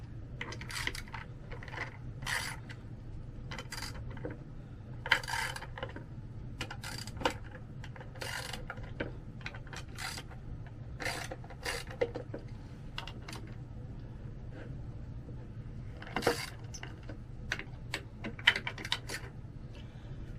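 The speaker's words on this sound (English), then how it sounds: "First I'm going to loosen the bolts." Metal bolts being loosened on a 1986 fiber optic cable splice enclosure, a quiet run of small clicks, taps and ratcheting ticks at close range, scattered irregularly over a low steady background hum.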